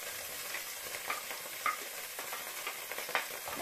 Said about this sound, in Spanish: Lo vamos a sofreír durante unos 3 o 4 minutos.